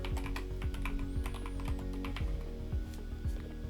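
Quick, steady keystrokes on a computer keyboard as a name is entered, close and crisp, running over a constant low electrical hum with no one talking.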